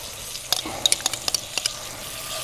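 A pan of mushrooms and onions sizzles over a campfire as cream goes in, with a soft frying hiss under a quick run of light metallic clicks and taps from stirring.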